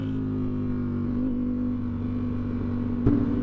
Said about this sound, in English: the revs climb up, it pulls insanely, and it's pretty smooth